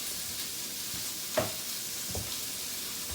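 Mushrooms browning in a lightly oiled skillet, a continuous close sizzle with a sharp clatter as they are stirred or tossed, then a few smaller scrapes, no talk.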